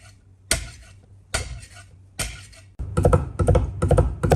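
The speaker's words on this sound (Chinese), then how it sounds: "3-4粒大蒜，趁其不备，拍匀剁碎。" A kitchen knife strikes a cutting board as smashed garlic cloves are flattened and minced: three separate heavy whacks, then a quick run of rapid, close chopping taps, with no voices.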